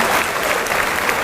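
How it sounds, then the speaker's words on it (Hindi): At a mushaira and kavi sammelan poetry gathering, the audience claps loudly and continuously in a brief, dense burst of close applause with no voices heard. "तो एक बार खुल के तालियां बजाइए।"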